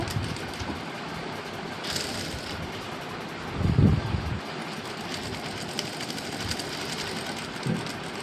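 Sewing machine stitches a fall onto a stone-studded saree, its continuous low mechanical rumble running steadily with a brief louder thump midway and no talking.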